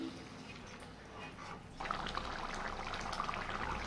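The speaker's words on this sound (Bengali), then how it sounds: "এর জন্য আমি এবার হালকা গরম জল অ্যাড করছি।" Warm water pours into a simmering egg and cauliflower curry, a splashing, bubbling gush that starts partway through and keeps going steadily after a quieter, faint opening.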